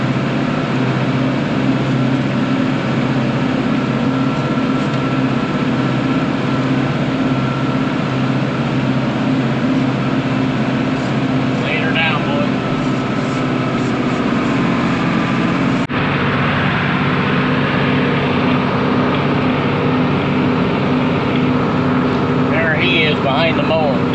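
A tractor mows wet hay after heavy rain in a field, its engine droning steadily and loudly throughout with no pauses.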